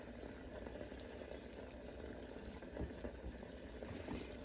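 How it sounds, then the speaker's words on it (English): Water simmers steadily beneath a glass bowl of melting chocolate in a double-boiler setup, a continuous soft bubbling and fizzing with small pops, close and low in level, with no voices. "if the bubbles are getting too big and they're touching the bottom of the glass bowl, then you can always adjust your heat"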